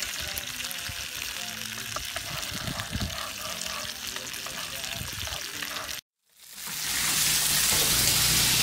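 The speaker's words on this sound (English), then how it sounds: "then we'll go ahead and sear it" Salmon seasoned with salt and pepper searing in a hot pan: busy kitchen clatter and sizzle, a brief silent break, then a loud, steady hiss that swells and holds close up.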